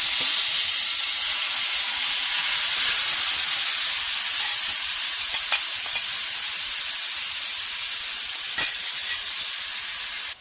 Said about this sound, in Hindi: चिकन को हमने बहुत ही अच्छी तरीके से फ्राई करना है